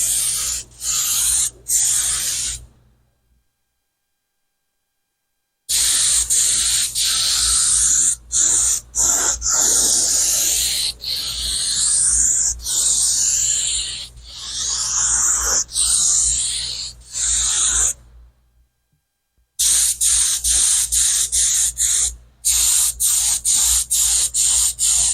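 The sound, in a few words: spot spray gun spraying primer on metal scoop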